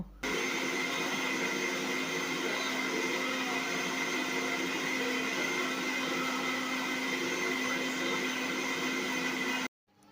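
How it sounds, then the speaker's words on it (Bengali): A mixer grinder whirs steadily as it grinds soaked parboiled and raw rice together into a paste for pitha, a loud continuous motor drone with a sharp stop near the end. "সেটাকে এখন একসাথে মিক্সির মধ্যে পেস্ট করে নেব পিঠে বানাবো তার জন্য"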